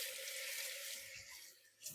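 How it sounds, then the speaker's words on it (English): Running water from a kitchen tap splashes into a sink as hands are washed, a steady close hiss that thins out toward the end with a brief louder splash. "Wash my hands"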